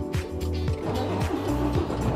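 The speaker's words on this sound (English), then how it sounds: "Prepare for starting 540 horsepower truck." A 540 horsepower truck engine cranks and catches, giving a loud, continuous low rumble with rhythmic pulsing and shifting tones through the short stretch, with no voices.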